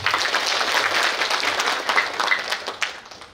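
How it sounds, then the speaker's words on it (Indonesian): A congregation at a church opening service for pastors' families gives dense, lively applause that rings through the hall and thins toward the end into scattered claps. "Tepuk tangan untuk kita semua."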